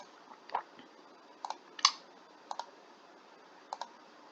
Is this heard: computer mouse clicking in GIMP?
yes